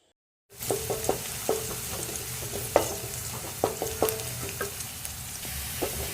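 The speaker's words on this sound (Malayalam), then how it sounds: "ഇത് മൂത്ത് വരുമ്പോൾ ഇതിലേക്ക് കഞ്ഞിവെള്ളം ഒഴിച്ച് കൊടുക്കുകയാണ് കേട്ടോ" Shallots and garlic fry in coconut oil with a steady close sizzle, punctuated by irregular scraping strokes from a stirring spoon after a brief silent start. No speech is heard.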